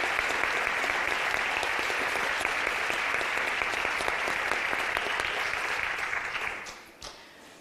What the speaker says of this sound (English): Can you please join me in another round of applause?